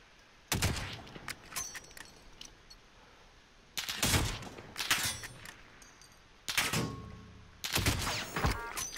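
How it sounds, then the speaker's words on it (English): Sniper rifle gunfire in the video game Warzone: four sharp, loud shots spaced a few seconds apart, each a broadband crack with a short echoing tail, against a quiet background with no talk. "Sniper's fucking shooting at me, that's hilarious."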